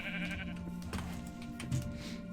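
Minecraft sheep bleating in a video game, a couple of close, clear wavering bleats in quick succession.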